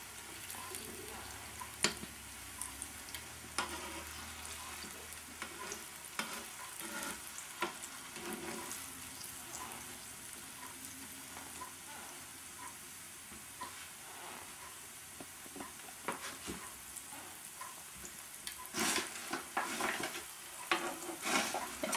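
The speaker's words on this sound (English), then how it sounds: "you cook them on both sides until they get golden brown" South Asian sweet bread fries in a pan toward golden brown, producing a continuous soft sizzle and crackle with scattered pops and occasional faint utensil sounds.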